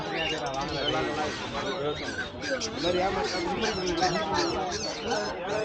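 White cockatiels at a busy pet bird stall in Chennai's Pallavaram Friday Market, a dense, loud chorus of overlapping squawks and honking calls filling the air continuously, with voices mixed underneath.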